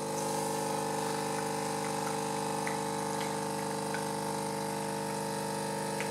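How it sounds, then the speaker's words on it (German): A Cremesso Compact One capsule machine brews espresso, its pump giving a loud, steady, close droning hum with liquid rushing underneath for several seconds, no one speaking. "Jetzt einfach mal auf die Lautstärke der Maschine hören"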